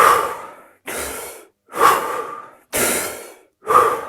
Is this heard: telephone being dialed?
no